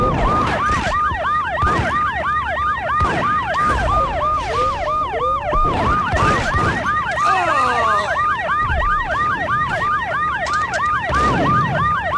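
Sirens in the Max Payne video game wail steadily and loudly throughout, several overlapping tones rising and falling in a continuous rapid cycle with no speech over them.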